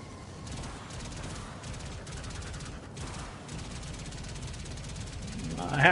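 Rapid, continuous gunfire in a Warframe Archwing space mission, dense bursts chattering under steady background noise and swelling louder at the end.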